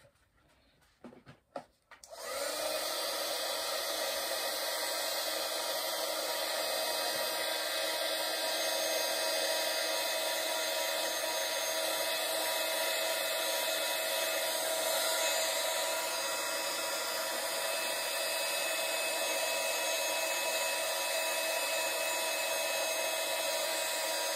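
A hair dryer blows on wet thin paper after a brief rustle at the start, then holds a steady, even whir close by for over twenty seconds with no voices.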